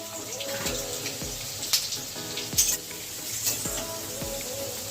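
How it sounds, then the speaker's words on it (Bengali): Potatoes fry in hot oil, giving a moderate sizzle with watery bubbling, occasional clinks and scrapes of a utensil against the pan, close by and without speech. "আলুগুলো একটু লাল করে ভেজে নেব"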